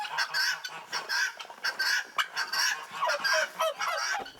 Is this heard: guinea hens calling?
yes